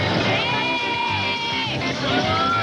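A crowd at the Broken Spoke Saloon in Laconia, New Hampshire cheers a rider on Rambo the mechanical bull, with sustained loud whoops and yells swelling in a dense, continuous roar.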